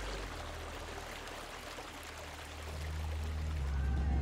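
Superheated water flows into a lake above volcanic magma, a steady broadband rush of running water that builds louder toward the end, heard up close with no voices.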